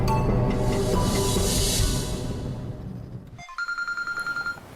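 A telephone rings in a household scene from a Pakistani TV drama, a string of evenly spaced electronic ring pulses that comes in clearly after a louder passage of background music fades out.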